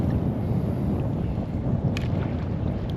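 Strong wind rushes and buffets the microphone outdoors while a Bombarda fishing rig is cast, a continuous low roaring gust with a faint brief swish, no talking.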